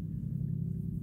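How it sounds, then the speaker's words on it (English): A loud red truck rumbles past, a steady low engine drone heard from a distance, with no talk over it. "That's that damn loud ass red truck from yesterday."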